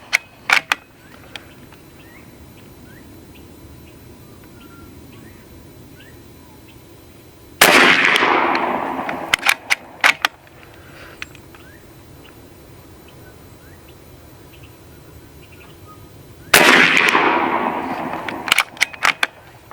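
Shots from a B&W Bin Tac M50 PCP air rifle at an outdoor range, two sharp loud cracks spaced several seconds apart, each followed by a short decaying tail and scattered clicks, with quiet ambience between.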